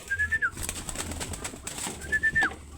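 Two short rising-and-falling coos from a pigeon, one at the start and one near the end, over a low steady background hum.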